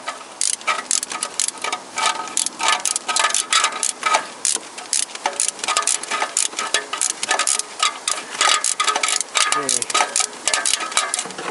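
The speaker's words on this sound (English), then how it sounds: "And now I am rotating this bolt." A wrench turning an exhaust manifold bolt on a Toyota Corolla VVT-i engine, a loud continuous stream of rapid metallic clicks and ticks close up, with a brief spoken word.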